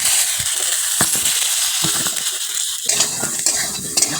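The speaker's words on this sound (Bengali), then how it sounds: "ভালো করে একটু ভেজে নেবো লাল লাল করে।" Cut pointed gourd (potol) fries in a little oil with salt in a hot wok, sizzling loudly up close while a spatula scrapes and clinks against the pan now and then.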